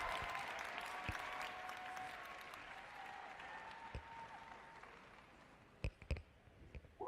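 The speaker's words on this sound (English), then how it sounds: "give the biggest round of applause to all our leaders on the ground" Sustained applause from an audience, steady clapping that fills the space and then thins out, with a few louder sharp claps near the end.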